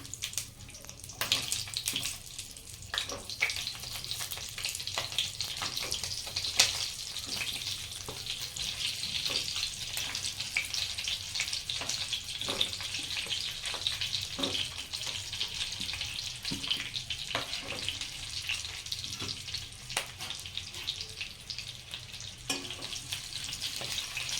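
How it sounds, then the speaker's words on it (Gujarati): Green chillies fry in oil already tempered with mustard seeds and asafoetida, for stuffed chillies, producing a steady broadband sizzle dotted with frequent small pops and crackles, close and without talk. "અહીં મરચાં નાખીશું."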